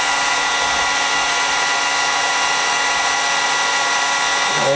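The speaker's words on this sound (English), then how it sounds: "You keep the heat gun about, I'd say, an inch from the bellow." A heat gun blows steadily on the bellows of a player piano being refurbished, a constant close whoosh of hot air with a faint motor hum and no break.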